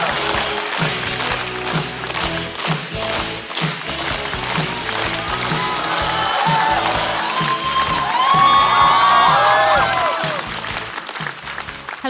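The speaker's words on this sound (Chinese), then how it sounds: "掌声有请。" Loud audience applause with cheering and whoops fills a stand-up comedy show as a performer is welcomed to the stage, sustained and swelling toward the end.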